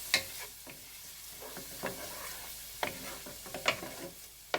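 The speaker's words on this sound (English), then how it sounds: "So we have our onions and garlic in the pan. We're gonna saute that a little bit" Onions and garlic sauté in a pan with a soft, low sizzle, punctuated by sharp utensil clicks and scrapes at irregular intervals, quiet and close with no talking.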